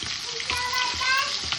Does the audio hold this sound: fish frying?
yes